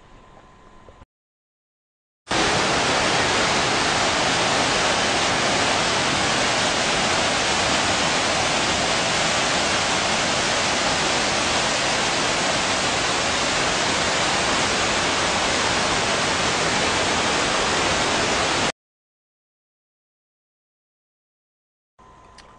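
Whitewater rapids roar at Bujagali Falls on the Nile River, a loud, unbroken hiss of rushing water lasting about sixteen seconds, starting and stopping abruptly between quieter stretches.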